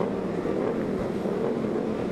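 SC-Project Twins Cup race motorcycles at the start of a race in Alabama, a dense, steady engine roar from a pack of bikes, loud and continuous with no talking.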